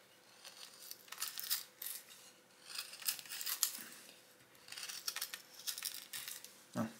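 A DBK Bushmate knife bites into a small wooden stick in a run of faint, irregular scraping crunches, with short pauses between strokes and no talking.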